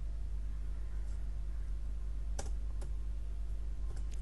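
Code being typed on a computer keyboard, a few sparse key clicks over a steady low hum, faint and close.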